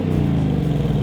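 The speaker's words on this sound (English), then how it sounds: "let's have some V8 sounds" A sixth-generation Ford Mustang GT's V8 engine rumbles close by, a steady, loud, deep idle-like burble with a slight rev swell, no voices present.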